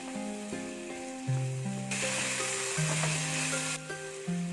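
Chopped tomatoes drop into a hot frying pan and are mixed in, raising a burst of sizzling that swells for a couple of seconds and then fades back under steady background music.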